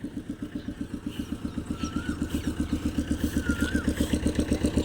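A motorcycle engine idling nearby with a steady, throbbing putter, holding an even rhythm throughout.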